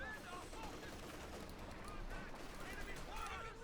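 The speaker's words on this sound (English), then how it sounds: "No mercy shown there as 2 machine guns just hose away at him" Machine gun fire in the video game Company of Heroes 2, from two machine guns, including an MG34, rattling in dense bursts under continuous talk, fairly faint in the mix.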